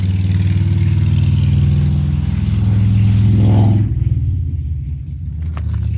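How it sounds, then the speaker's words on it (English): A loud engine roars close by with a deep rumble, then drops away abruptly as the vehicle passes and the noise fades. "Loud motorcycle going by."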